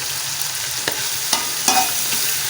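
Garlic and ginger roasting in ghee for beef matar qeema, stirred with a few distinct scrapes over a steady sizzle that stays close and moderately loud, with no voices.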